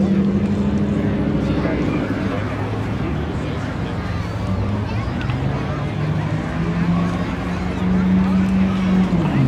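A Toyota Camry and a 2004 Mitsubishi Lancer launching in spectator drags at Seekonk Speedway, engines roaring loudly and rising in pitch as they accelerate, with an announcer talking over the noise.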